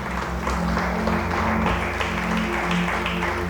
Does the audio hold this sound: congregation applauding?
yes